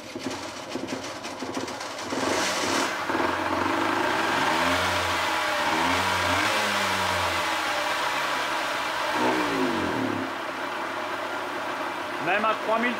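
Car engine revving up to about 3000 rpm during a test of the charging circuit; the engine climbs from idle into a loud, sustained rev, holds there, then settles back down.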